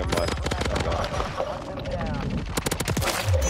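Bursts of rapid automatic gunfire from a silenced RAM-7 and HRM-9 in a Warzone match, loud and close, with a voice talking over the shots.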